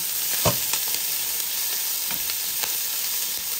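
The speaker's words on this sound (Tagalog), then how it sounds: "Gisa po natin yung garlic natin at onion." Garlic, onion and ginger sauté in a hot pan, giving a steady close-up hiss and sizzle with a few soft stirring clicks and scrapes, without any voices.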